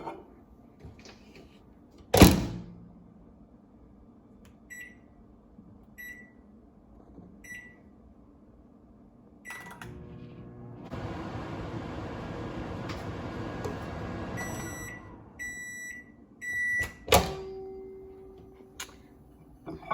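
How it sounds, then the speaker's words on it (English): A microwave oven heats shredded cheese in a bowl: a door clunks shut, then a steady hum runs for a few seconds, then beeps sound and the door opens with a clatter, all close up with no talk. "I'm just gonna pour some into this bowl, microwave it for like 30 seconds"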